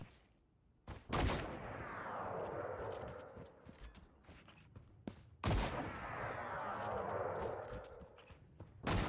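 Rocket launcher fire in the shooter game Creative Destruction: sharp blasts near 1 s and 5.5 s, each followed by a long rumbling roar. Further thuds come near the end over steady battle noise.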